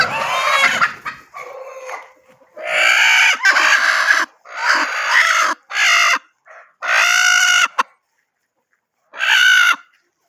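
Country chickens in coops cluck and squawk in loud, close bursts, several raised, drawn-out calls separated by short silences, with no other sounds around them.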